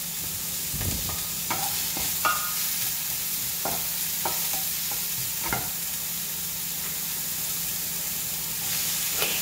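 Chopped onion, curry leaves and vegetables sautéed in a pan for momo filling, a steady close sizzle with repeated scraping stir strokes throughout, no voices.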